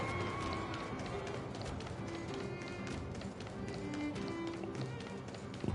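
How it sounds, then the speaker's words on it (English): Footsteps of a character in the video game Honkai Star Rail patter as steady, light plastic-like taps while running, faint and continuous under background game ambience. "What do my footsteps sound like a Lego?"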